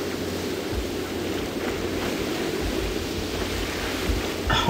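Waterfall in the Pirate101 video game, a constant broadband rush of falling water, loud and steady with faint low thumps beneath.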